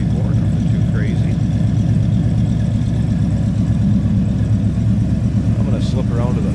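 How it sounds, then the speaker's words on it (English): 1970 Chevrolet Chevelle with a 454 engine idling, a steady deep pulsing rumble held throughout, close and loud, with a person talking over it. "A little rumble coming out of that 454"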